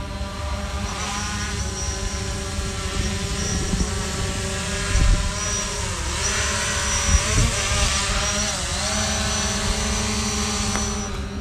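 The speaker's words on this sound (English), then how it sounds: "Here comes the drone." A camera drone flying overhead on a mountain gives a steady, buzzing propeller whine that holds for the whole stretch and shifts slightly in pitch as it moves. It is fairly loud, with no talking.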